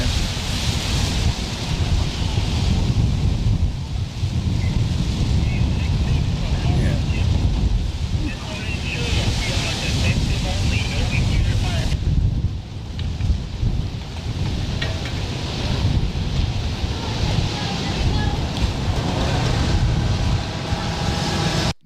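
Strong wind roaring during a Southern California wildfire, a loud continuous broadband rush with gusting swells, close to the microphone, with a person speaking over it.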